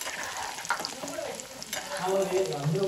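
A chilli tempering fries in a pan for a chutney, with a constant close hiss of hot oil and soft stirring scrapes that grow slightly louder toward the end.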